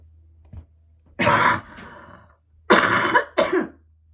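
A woman coughs in two loud, harsh bursts, one around the middle and a double cough near the end, after a faint earlier click, with quiet breathy pauses between and no speech.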